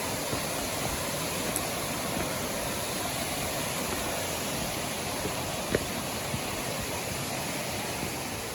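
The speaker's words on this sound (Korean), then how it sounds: "계곡물 소리 시원하게 들리고" Steady, full-band rush of a mountain valley stream flowing over rocks, continuous and close, filling the whole stretch with no voices.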